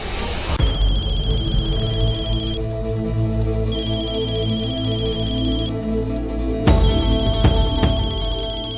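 A phone ringtone chimes in repeated electronic tones with short breaks between them, steady and fairly loud over a droning musical background.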